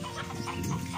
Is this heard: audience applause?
no